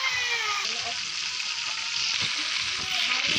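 Onions frying with salt in a pan give a steady, bright sizzle that runs loud and unbroken throughout, with a few soft stirring knocks underneath.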